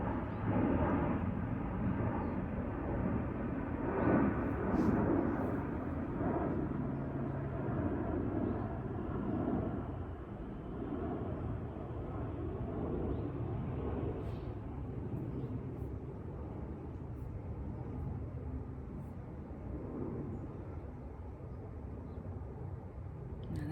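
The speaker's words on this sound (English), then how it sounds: "Airplane's loud." A loud, steady broadband roar fills the whole stretch, the sustained rumble of a plane passing overhead, easing slightly toward the end.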